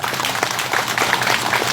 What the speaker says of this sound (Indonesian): Tepuk tangan untuk Bung Karno,